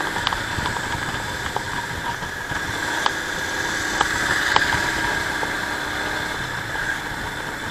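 A Royal Enfield Himalayan BS4 motorcycle's oil-cooled 411cc single-cylinder engine runs steadily, a continuous mid-pitched drone with light ticking and some wind noise throughout.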